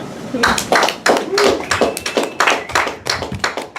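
A comedy-night crowd in a small room applauds a comedian, loud and close rapid hand claps in a continuous burst with a few whoops and voices mixed in.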